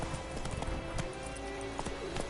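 A horse's hooves clip-clop in The Witcher video game, a quick, rhythmic trot heard up close amid game background sound.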